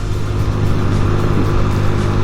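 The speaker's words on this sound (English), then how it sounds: "got the throttle pinned again, stuck at 40 miles per hour" A 2022 Honda Navi mini motorbike held at full throttle, its small engine droning loud and steady at a constant pitch, close up with strong low rumble and no talk.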